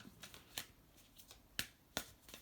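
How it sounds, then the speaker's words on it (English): A deck of new, stiff playing cards is shuffled in a few quick, crisp riffles and snaps, faint and close in a quiet room. "These cards are hard to shuffle."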